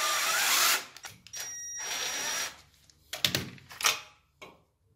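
A power driver screws a screw-type leveling beacon deeper into a shower tray base during DIY construction, giving a close burst of whirring drive followed by short intermittent bursts and clicks.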